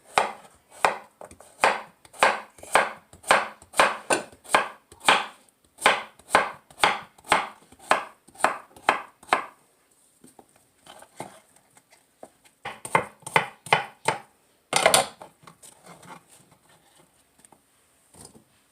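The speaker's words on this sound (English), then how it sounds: "I'm going to cut it in half and just do little" A knife chopping zucchini on a cutting board, a fast, regular series of crisp close thuds that pauses briefly, then resumes in a shorter burst with one heavier knock.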